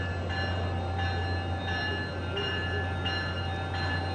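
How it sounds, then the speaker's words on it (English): A train pulls out of the Union Pearson Express terminal in downtown Toronto, a steady, loud mechanical hum and drone with a low rumble that holds evenly throughout. "This train's ready to go. There it goes."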